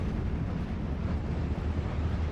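Mortar shell explosions in the World War II strategy game Steel Division: Normandy 44, a dense, sustained low rumble of blasts with no single sharp crack, steady and fairly loud throughout.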